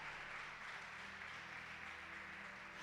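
A church congregation applauds in steady, dense clapping that fills the room at a constant level, with no talk above it and a low sustained tone underneath.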